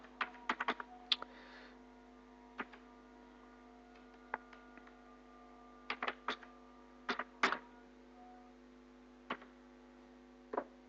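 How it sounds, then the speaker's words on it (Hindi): Sparse typing on a computer keyboard while entering text into Microsoft Excel, with scattered clicks and short bursts over a quiet, low mains hum and no talk. "जैसे यहाँ पर मैं टाइप कर रहा हूँ"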